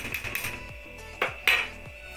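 Whipped cream being stirred into semolina pudding in a bowl: a spoon scrapes and clinks against the sides in quick, uneven strokes, with two sharper knocks near the end.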